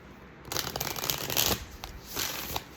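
Tarot cards shuffled by hand for a pick-a-card full moon reading, a close, crisp riffling rustle in a few quick bursts with brief pauses between.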